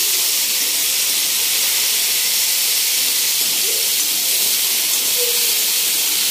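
Potatoes frying in a pan for sabudana khichdi, giving a steady, even sizzling hiss that stays fairly loud and close throughout with no talking.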